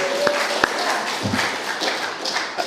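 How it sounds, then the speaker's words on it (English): Congregation applauding a church's spiritual leader, a dense wash of clapping with a few sharp nearby claps standing out, steady and fairly loud throughout with faint voices mixed in. "May we give Mary Ann a round of applause for being our spiritual leader."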